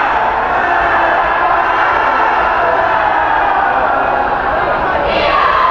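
A crowd keeps up a dense, steady roar of cheering and chanting in a gym during a girls high school basketball game, with no breaks in the noise.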